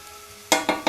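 Tomatoes for paella cooking in a pan, a faint background hiss broken by three quick, loud bursts of sizzling or stirring in fast succession, close up.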